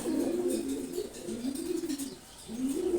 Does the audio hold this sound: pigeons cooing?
yes